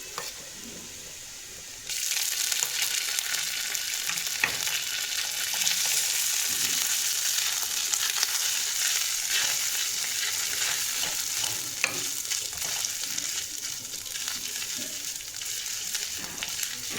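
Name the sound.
ginger paste frying with garlic in a pan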